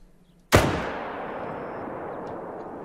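One sharp, loud gunshot in a hunting video game, followed by a long decaying echo that rolls out over a quiet background.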